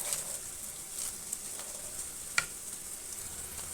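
Sliced onions frying in oil, a soft, continuous sizzle and crackle with occasional sharper pops, heard close and fairly quiet with no voices.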